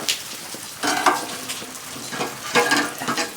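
Thick slab bacon sizzles and spits steadily on a grill at close range, with irregular louder bursts of frying crackle and no voices.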